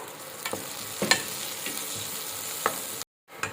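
Chillies and curry leaves frying in hot oil for Maggi biryani, a steady close sizzle with a few sharp scraping stir strokes, cutting off abruptly near the end, no talk.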